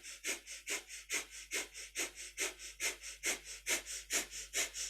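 Breath of fire during a kundalini yoga kriya: rapid, steady, rhythmic forceful nasal exhalations about three per second, close and soft, with no speech.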